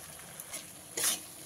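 Okra being stirred in a pan with mustard, poppy seed and green chilli paste, a soft sizzle under a few scraping strokes, ending in one louder, brighter scrape near the end.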